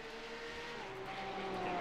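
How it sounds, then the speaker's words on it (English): Race cars in the Porsche PMR Cup at Donington circuit, a steady engine drone with rising tonal whine as cars pass, fairly distant and continuous for under two seconds with no talk. "I'll try and turn this up just a touch more again so you guys can hear the cars."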